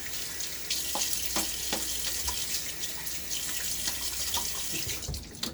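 Water pours steadily from a bathroom tap while a face is rinsed after a shave with a Gillette Aristocrat razor, a continuous close hiss with faint splashes and hand movements in the stream and no talking.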